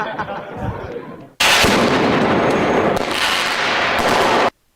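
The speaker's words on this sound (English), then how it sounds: "They are throwing firecrackers." A dense burst of crackling explosions, rapid firecracker pops overlapping continuously for about three seconds before cutting off abruptly.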